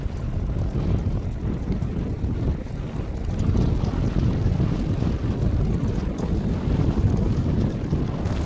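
A tour boat pulls away across the open sea off Qatar's waterfront, its steady low engine rumble and water wash mixed with constant wind buffeting the microphone, with no speech.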